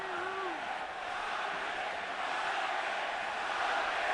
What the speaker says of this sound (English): And now the crowd begins to chant for Pacquiao